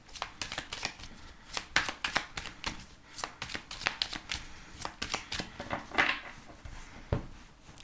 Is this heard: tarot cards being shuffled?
yes